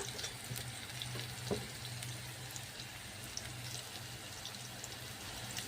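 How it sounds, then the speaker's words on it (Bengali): Bitter gourd slices frying in a pan until browned, giving a steady, close sizzling hiss with a low hum beneath it and a few brief pops, with no voices. "লাল লাল করে ভেজে নিয়েছি"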